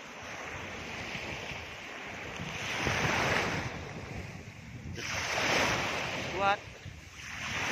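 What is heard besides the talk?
waves on the seashore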